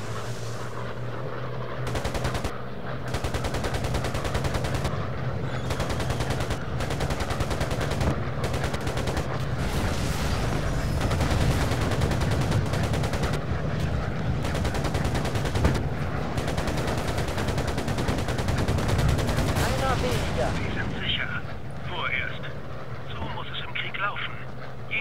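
Rapid bursts of aircraft machine-gun fire rattle in long, dense broadsides over a constant engine drone in the Air Conflicts Pacific Carriers video game, fading out near the end.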